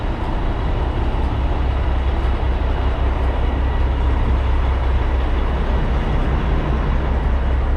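Truck hauling a trailer that drags, a loud steady low rumble and road roar throughout, continuous and close with no talk.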